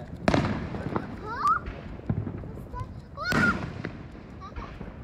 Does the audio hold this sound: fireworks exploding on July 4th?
yes